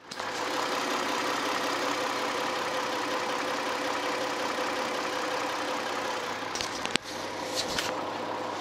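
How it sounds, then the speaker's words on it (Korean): A Kia New Opirus car engine idling steadily and smoothly, a constant even hum throughout, with a brief click and a faint rattle near the end. "엔진 소리 굉장히 일정하게 아주 조용하게 잘 들리고 있는 차량이고"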